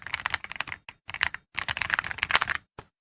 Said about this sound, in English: it's got the thockiness that you look for in an awesome keyboard